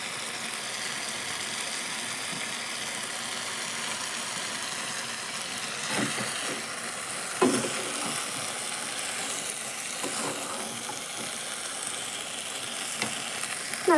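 Vegetables with turmeric sauté in a pan with a steady, hissing sizzle that runs unbroken throughout. A few soft stirring scrapes occur near the middle, close by with no talking.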